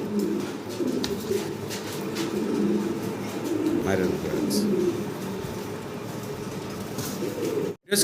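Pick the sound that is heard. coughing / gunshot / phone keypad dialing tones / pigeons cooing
pigeons cooing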